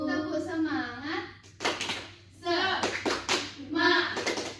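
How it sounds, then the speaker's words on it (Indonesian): A classroom of students joins a rhythmic clapping chant led by a teacher, with quick bursts of group claps in short patterned runs that alternate with sung or spoken calls. "Tepuk semangat."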